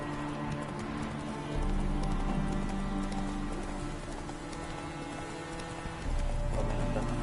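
Geralt's horse Roach gallops in The Witcher 3: Blood and Wine, a steady rhythmic clip-clop of hooves under ambient music, with no talk.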